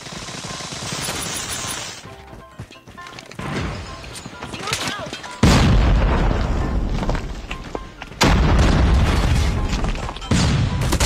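Shotgun blasts in Call of Duty Mobile boom out as several loud, heavy shots spaced a few seconds apart, each followed by a lingering roar, over game noise while a player talks.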